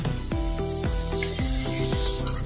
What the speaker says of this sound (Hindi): तेल अच्छे से गर्म हो गया है। अब इसमें हम चिली फ्लेक्स डालेंगे और थोड़ा सा हींग डालेंगे।